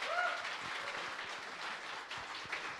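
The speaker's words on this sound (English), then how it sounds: "let's give him a round of applause as he comes up here" A conference audience applauds a speaker walking up to the stage at a marketing leadership event, with continuous moderate clapping, somewhat distant and soft.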